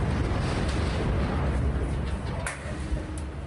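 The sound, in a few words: explosions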